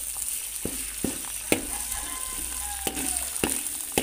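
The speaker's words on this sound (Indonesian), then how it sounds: "Kita tumis bumbu-bumbu yang sudah ditumbuk" Pounded spice paste fries in oil for a young coconut vegetable dish, a soft continuous sizzle with a regular series of distinct spatula taps and scrapes against the pan.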